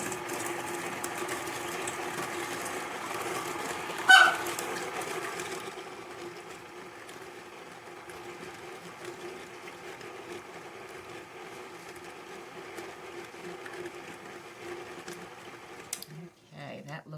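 An electric mixer running on its stir setting while mixing dinner roll dough, a steady close mechanical whir that carries on throughout, with a brief knock partway and the motor stopping near the end.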